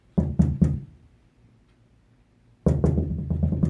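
Three sharp knocks on a wooden bedroom door, loud and close, then a pause before another quick burst of knocking resumes.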